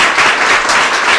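Clapping from a church congregation at an Urdu-language service in Sohar, Oman, forms a loud, dense, continuous wash of hands with no voices over it.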